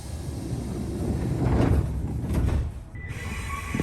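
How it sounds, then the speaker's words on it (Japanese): Sliding doors of a Kintetsu train bound for Nishi-Tawaramoto glide closed at a station, a brief rumbling slide with a soft thump, followed by a chime over the train's steady hum. "西田原本行きの扉が閉まります。"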